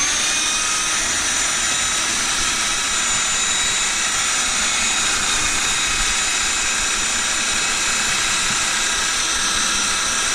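Power sander smoothing wooden parts for a homemade soapbox racer, a steady loud high-pitched whine and hiss running continuously without pause.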